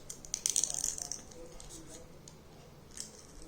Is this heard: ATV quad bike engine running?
no